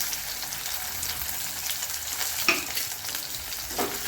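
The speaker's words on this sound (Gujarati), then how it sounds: "પછી તેને તળાય ત્યાં સુધી આવું ધીમે ધીમે ફેરવા કરવાના છે" Stuffed okra sizzles gently in a hot pan while a utensil stirs it, with a few soft scraping clicks.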